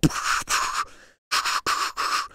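A voice makes breathy whooshing puffs imitating air blowing out, several short bursts with a brief pause in the middle.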